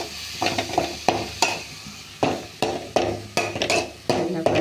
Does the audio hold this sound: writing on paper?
no